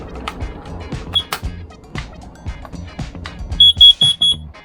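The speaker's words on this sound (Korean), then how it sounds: "제 일산화탄소 감지기가 장착이 되어 있는데요" A carbon monoxide detector in a custom camping caravan gives a single beep, then after some knocks and clicks from handling sounds a quick run of four sharp, high, piercing beeps near the end.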